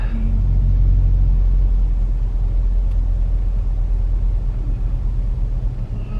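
A bus passes on a street, a heavy, loud low rumble that swells early and stays steady for several seconds, heard close by without speech.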